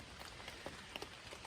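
Rain falling on an Appalachian Trail thru-hike, a steady faint patter of drops on a surface with scattered slightly louder taps, even and continuous with no voices.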